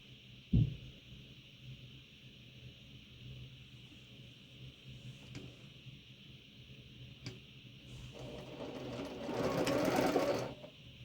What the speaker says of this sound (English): I'm going to go ahead and sew these together and then iron them